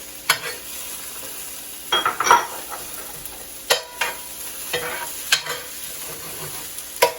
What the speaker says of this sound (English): we're going to start by sauteing our onions and our peppers